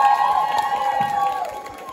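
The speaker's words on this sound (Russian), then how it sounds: "Похлопайте себе." A live audience at a music show applauds and cheers, a dense wash of clapping and crowd noise that stays loud and steady, then eases slightly toward the end.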